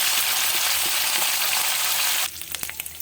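Spices and asafoetida hit hot white oil in a wok, giving a loud, steady broadband sizzle that drops abruptly near the end into quieter crackling with a few sharp stirring clinks.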